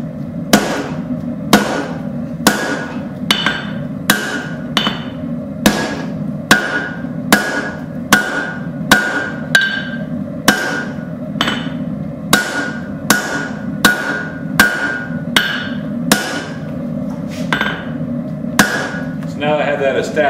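Hammer blows ring out on hot steel against an anvil while forging tongs, about twenty-five sharp, evenly paced strikes with bright metallic ring, close and loud over a low steady background.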